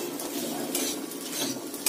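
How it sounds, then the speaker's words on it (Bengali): Kabuli chickpeas stirred and fried in spice masala in a metal pan, a spoon scraping and clinking steadily against the pan over a soft sizzle, close and continuous with no talk. "চলো কাবলি চানাটা একটু কষিয়ে নিই"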